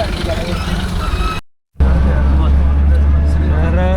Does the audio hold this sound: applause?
no